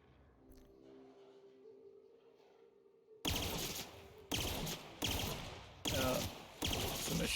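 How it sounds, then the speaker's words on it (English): Rapid bursts of machine-pistol fire in a video game, four or five loud volleys after a quiet stretch with faint low tones, each burst sharp and close with brief gaps between. "It's a machine pistol."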